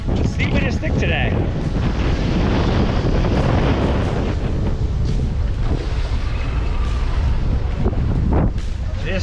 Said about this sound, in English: It is getting windy though, at least. Blowing 20 and gusty now.